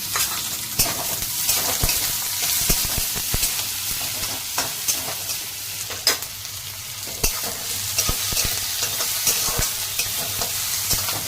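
Onion sautéing in a pan, a continuous close sizzle broken by frequent sharp scrapes and clicks of a spatula stirring, steady throughout with no voices.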